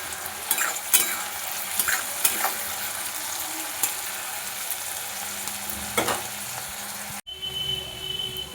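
Onion and garlic fry with salt in a pan, a steady soft sizzle broken by scraping stirring strokes, close and fairly quiet, then a sudden stop followed by a faint hum.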